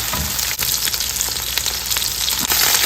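Pork belly pieces fry in hot oil in a pan partly covered against spatter, giving a steady, dense close-up sizzle with faint crackles and no talking.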